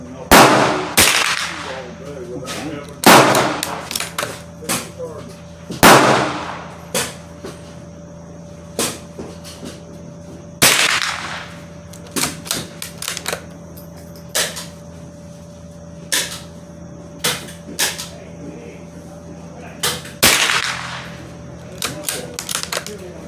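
A Savage Mark II FVXP .22LR bolt-action rifle fires several sharp, loud shots a few seconds apart outdoors at paper targets, with softer clicks of bolt handling in between.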